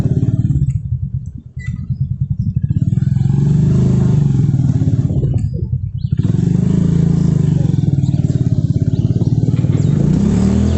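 A motorcycle engine drones loudly and close, rising and falling as it rides over sand with wheels slipping, with occasional throttle surges and no talk.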